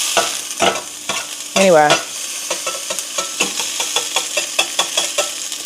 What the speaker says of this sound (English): We're gonna cook our sausages and onion first, because obviously the sausages are gonna take longer to cook.